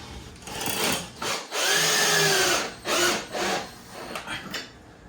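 A power drill whirs in several short bursts through a Venetian blind mounting bracket hole, its motor pitch rising as the bit bites into material, close by with brief pauses between runs.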